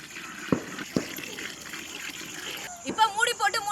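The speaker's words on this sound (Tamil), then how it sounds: "சோறு எல்லாம் நல்லா ஆறிடுச்சு. 3 வடியில இப்ப தண்ணி ஊத்திக்கலாம்." Water is poured into cooled cooked rice in a pot to make sunda kanchi, a traditional village dish: a quiet stretch with a few soft knocks, then a short splashing gush near the end, with a voice nearby.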